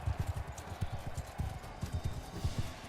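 Horse hooves pound in Mount & Blade II: Bannerlord, a fast galloping run of dull thumps in a quick uneven rhythm over a noisy battle ambience.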